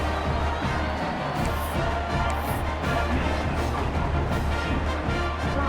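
Stadium crowd in a college football video game at a Duke versus North Carolina rivalry game, a continuous roaring murmur of fans with a few brief swells of cheering and whistles, moderately loud and steady throughout.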